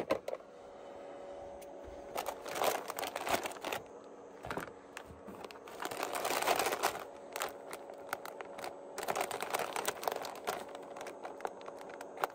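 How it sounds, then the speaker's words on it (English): A bag of Fritos corn chips is cut open with scissors, giving close, bursty crinkling and snipping with crisp crackles across the stretch, set apart by short pauses. "Let's cut open our Frito bag."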